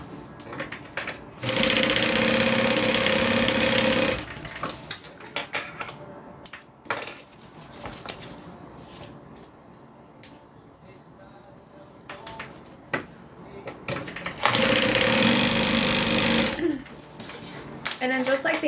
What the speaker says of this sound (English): now I'm going to go ahead and close the side to the bottom